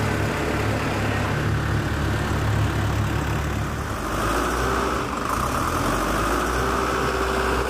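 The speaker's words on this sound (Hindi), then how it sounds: "और एक वर्कर तैयार ट्रैक्टर को रोड टेस्ट के लिए ले जाता है।" A newly assembled tractor engine running during a factory road test, a loud steady low diesel drone that shifts in pitch partway through, with no talk.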